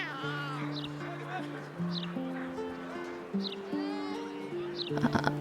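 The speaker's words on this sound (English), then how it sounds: "Attempt to pet the cat." A cat in the video game Baldur's Gate 3 lets out several drawn-out meows in a row over soft sustained background music, close and clear, with no voices in between.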